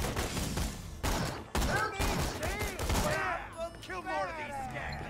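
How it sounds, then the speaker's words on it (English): Rapid bursts of gunfire in the shooter game Borderlands 2, loud clustered volleys with sharp cracks, overlapped by a player talking. "Who's shooting at me?"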